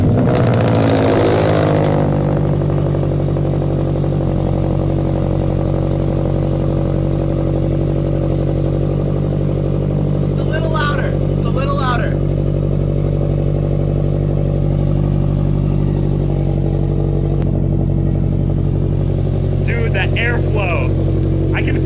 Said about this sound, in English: we're gonna turn on the car and see how this exhaust sounds